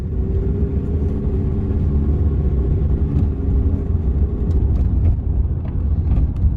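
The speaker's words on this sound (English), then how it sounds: "I'm gonna go drive around the neighborhood and see how it looks." A car drives through a residential neighborhood at night, with a steady low engine rumble and road noise throughout and a few faint clicks near the end, no voices.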